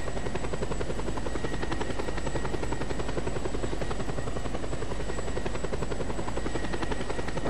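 A helicopter flying in the video game Just Cause 2, its rotor thudding in a steady, loud beat with a constant engine whine running through the whole stretch, with no talking.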